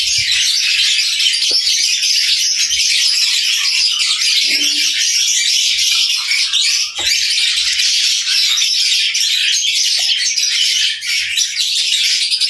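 Dense, continuous high-pitched chirping from many small hungry birds during hand feeding by syringe fills the whole stretch, steady and close, with a few faint knocks underneath.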